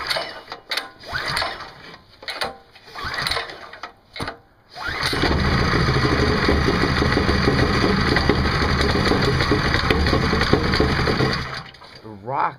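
A Predator 6.5 hp small engine catches after a few pull attempts on a cold start, then idles in a loud, steady, rattling chug close to the microphone before a voice comes in at the end.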